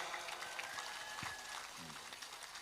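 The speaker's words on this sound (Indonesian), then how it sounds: "Tepuk tangan untuk Mas Ipang Wahid." Applause from an audience at a gathering at an Islamic boarding school, steady but distant and fairly quiet, with a faint tone in the background.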